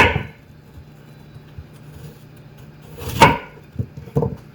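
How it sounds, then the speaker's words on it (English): A knife slices through a fresh apple around the core for a Dutch apple pie, giving a brief crisp cut near the start, then a louder crunching slice and a couple of short cuts close by, with quiet between. "I slice it around the core"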